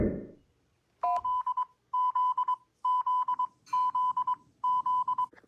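Cuban emergency alert system alarm tone: five repeated bursts of rapid electronic beeping on a steady pitch, each lasting about half a second with short gaps, loud and clear.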